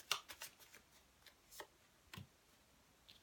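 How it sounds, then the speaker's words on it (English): Tarot love cards being shuffled by hand, a quiet series of soft riffling flicks and taps at an uneven rhythm, close and faint with no talking. "Just doing you some Chuck Spezzano's love cards"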